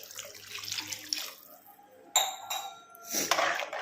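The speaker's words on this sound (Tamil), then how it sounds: "தேவையான அளவு தண்ணி." Water being poured into a pan of vañjaram fish curry masala, a close splashing gush that stops and then resumes, with faint clinks of the pot.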